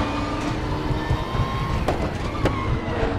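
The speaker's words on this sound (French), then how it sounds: "On entend l'arrière crisser" Rear tyres of a Bentley GT3 race car squeal in an ADAC GT Masters 2015 racing game, a few short squeals over a steady engine drone.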